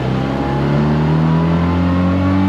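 A car engine pulls hard at low revs, a loud close droning growl with steadily rising pitch as the car accelerates, no talking.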